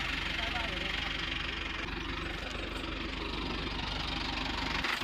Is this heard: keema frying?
no